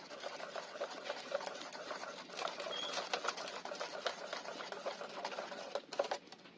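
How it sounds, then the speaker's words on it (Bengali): Bonde batter is beaten by hand in a bowl, a quiet, fast, steady patter of whisking strokes that continues throughout. "আর একবার ভালো করে ফেটে নিচ্ছি"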